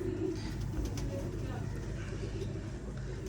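A huge-sized pigeon of the Kasur breed coos softly in a loft, its low, steady murmur running throughout beneath a broad rumble of background noise.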